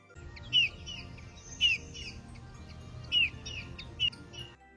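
A bullfinch gives four short, clear chirping calls spaced about a second apart, fairly close against a quiet background.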